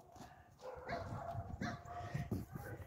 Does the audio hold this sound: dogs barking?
yes